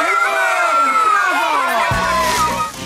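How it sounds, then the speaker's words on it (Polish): A crowd of young voices cheers and whoops for circus animals in a Dora cartoon, loud and bright, swelling briefly before shifting into a thinner, scattered cheer near the end. "Wielkie oklaski dla zadziwiających zwierząt!"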